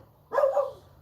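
A single dog bark rings out once, clear and fairly close, then fades quickly into a quiet room.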